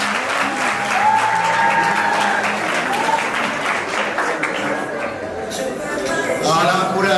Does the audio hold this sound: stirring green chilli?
no